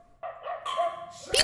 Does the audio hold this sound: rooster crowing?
no